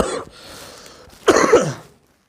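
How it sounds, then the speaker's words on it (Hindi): A man coughs twice, first one short cough and then a louder, rougher throaty cough after a brief pause, close and alone in a quiet room. "सॉरी, खांसी बार बार आ रही"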